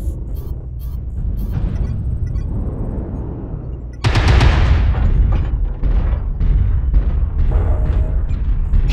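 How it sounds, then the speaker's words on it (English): Artillery strike in the MechWarrior Online video game, with a King Crab mech: sustained loud rumbling barrage and heavy booms, intensifying sharply midway into dense overlapping blasts and rapid gunfire-like bursts. "Artillery strike online."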